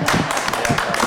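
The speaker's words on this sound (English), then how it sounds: "It is worth a clap." A short burst of applause at a city council meeting right after an ordinance passes, dense and steady for about a second, filling the room.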